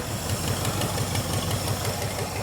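A GT40 replica supercar's engine idles steadily nearby, a continuous low rumble with a faint regular pulse and no talk over it.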